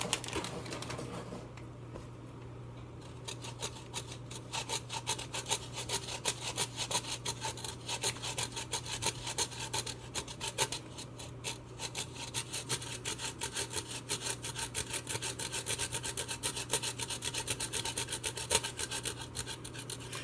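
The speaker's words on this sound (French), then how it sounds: "Je vais râper du fromage d'avance ou après" Cheese being grated on a kitchen grater for a vegan Hawaiian spaghetti squash dish: a fast, steady rasping scrape with rapid even strokes, close and fairly quiet, continuing without a break.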